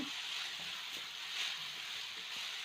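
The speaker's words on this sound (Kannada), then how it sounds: "ಈಗ ಸೊಪ್ಪನ್ನು ಹಾಕಿದ್ದೀನಿ. ಈಗ ಸ್ವಲ್ಪ ಈ ರೀತಿ ಫ್ರೈ ಮಾಡ್ಕೊಳ್ಳಿ." Fenugreek leaves fry in a pan with a faint, even hiss and crackle, steady and unbroken, with no voices over it.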